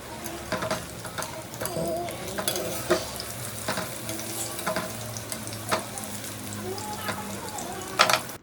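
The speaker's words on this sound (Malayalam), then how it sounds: "അങ്ങനെ 3 വെച്ചിട്ട് 2 ട്രിപ്പായിട്ട് നമുക്ക് പൊരിച്ചെടുക്കാം" Banana fritters in batter fry in hot oil with a steady broadband sizzle, punctuated by stirring clatter and occasional sharp utensil clicks near the end.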